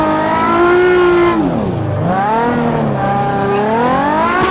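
A car drifts in a driving video game with the clutch in and the handbrake pulled, its loud, close engine droning and revving in sweeping pitch dips and rises, edged by tire squeal, with no talk.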